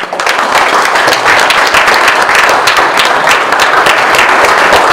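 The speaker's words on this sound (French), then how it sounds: "Et on peut les applaudir." A crowd applauds enthusiastically at a medal ceremony honouring a former mayor and deputies in Saint-Guyomard, dense steady clapping throughout, loud and close.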